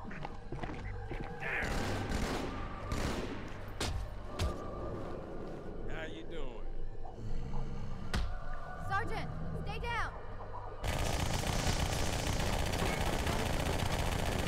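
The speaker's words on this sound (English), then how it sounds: "Look at Miranda dual-wielding SMGs with no recoil" Rapid SMG fire in Halo 2 Anniversary on PC, dual-wielded automatic bursts mixed with game effects and clattering mechanisms, running continuously under speech with a dense burst near the end.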